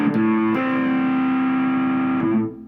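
A single sustained electric guitar note from a riff, played through a distortion effect, rings with a brief pick attack, holds steadily, then decays near the end, loud and close with no talking.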